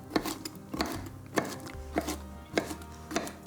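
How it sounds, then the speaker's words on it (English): Macadamia nuts chopped with a knife on a board, about six evenly spaced firm knocks with a crunchy edge, close and clear with no talking. "About 1/3 of a cup of macadamias. Chop those, pop those in as well."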